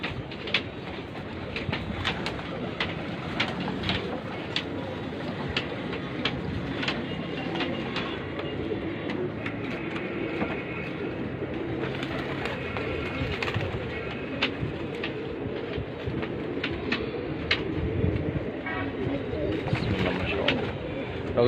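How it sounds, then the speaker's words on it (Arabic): Domestic pigeons in a rooftop loft in Bulaq al-Dakrour, Cairo, cooing and fluttering steadily through a busy bed of nearby birds, with a passing train rumbling along underneath. "الحمام ده اتفرجنا عليه في البيبان، وهنتفرج عليه برضو على الأرضية وفوق على العرق وفي السما"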